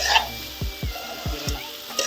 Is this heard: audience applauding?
no